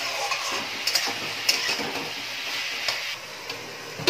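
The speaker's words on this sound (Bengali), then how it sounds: "আবার সবকিছু ভালো করে একটু নাড়াচাড়া করে নিচ্ছি।" Drumstick flowers, potato and eggplant frying in a pan are stirred, giving a steady sizzle with repeated scraping and clicking stirs, close and fairly loud, with no talking.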